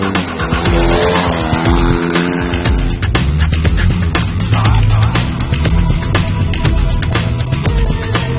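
Race car speeding toward a three-car crossing in a fast driving event, engine revving hard while tires squeal and skid, with dense crackling impacts and a loud, continuous roar throughout.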